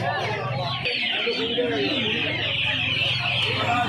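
Chickens cluck and squawk close by amid a busy poultry market din in Uluberia, with people talking in the background.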